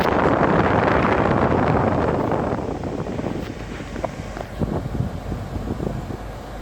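A Hyundai Tucson's air conditioning fan blowing cold air: a loud, steady rush of airflow that eases and thins after a few seconds, with light clicks and rattles over it.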